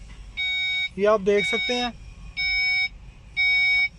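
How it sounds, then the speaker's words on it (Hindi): Front parking sensor buzzer on a Nissan Armada, heard as three evenly spaced electronic beeps, each about half a second long, with someone speaking briefly between the first and second beeps. "आगे वाला दबाने पे ये कन्फर्म हो गया कि आगे वाला बज़र ठीक है"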